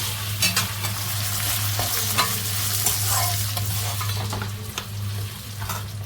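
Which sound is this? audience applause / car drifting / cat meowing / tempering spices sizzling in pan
tempering spices sizzling in pan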